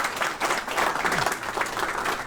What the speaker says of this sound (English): Please give Martin Pakula a big round of applause.